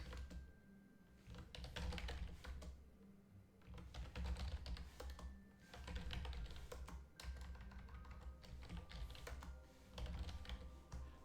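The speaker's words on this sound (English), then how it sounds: "Sorry for the keyboard noises." Loud, rapid clacking of a computer keyboard, continuous bursts of keystrokes with brief pauses, close to the mic and alone without talk.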